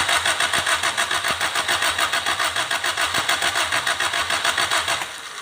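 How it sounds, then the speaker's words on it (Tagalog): A Toyota 4K engine fires up and runs with a close, steady, pulsing idle that holds for several seconds before easing off slightly at the end. "I-start natin yung makina."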